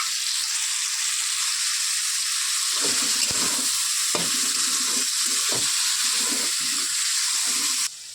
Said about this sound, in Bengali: সবগুলোকে নিয়ে ভালোভাবে ভেজে নিচ্ছি আমরা।